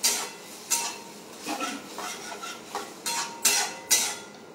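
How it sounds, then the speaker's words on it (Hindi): Half a cup of milk stirred into a paneer dish in a pan, with a spoon clinking and scraping against the metal in irregular close strokes, about eight distinct clanks, no talking. "मैं थोड़ा सा ये हाफ कप मिल्क है उसका मैं डालूंगी, इसको अच्छे से चलाऊंगी"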